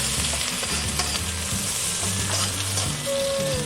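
Food frying steadily in a pan while being cooked until crispy, a continuous sizzle with scattered stirring clatter and a brief tonal squeak near the end, no talking.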